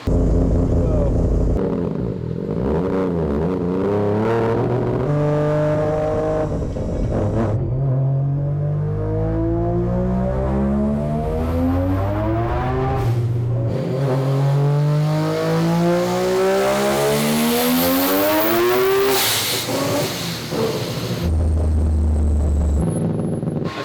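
Three-rotor Mazda RX-7 engine on a dyno during tuning, loud and sustained, sweeping up through the revs in long rising pulls with brief lifts and a sharp drop near the end, with talk faintly under the roar.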